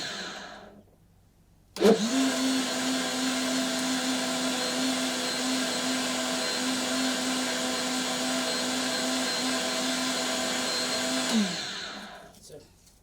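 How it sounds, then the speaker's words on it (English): A kitchen blender whirs through pineapple and water, switching on abruptly, holding a loud, steady motor drone for about ten seconds with its blades churning, then winding down and stopping. "when blending pineapple, it is the core that was always giving us issues with our blender"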